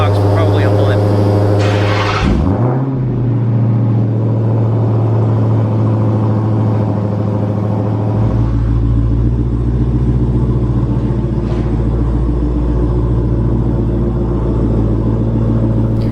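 A Dodge Hellcat fitted with an Arc Angel battery fires up quickly after a brief crank and settles into a deep, steady idle rumble, loud and close throughout.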